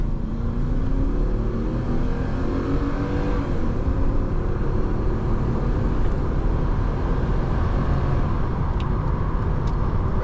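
2000 Mercedes SL500 R129 V8 of 306 hp accelerating on the motorway from inside the cabin, with a steady, gradually rising engine drone under heavy road and wind noise.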